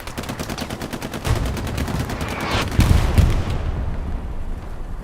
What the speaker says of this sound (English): Perfectly called artillery strikes from Helios.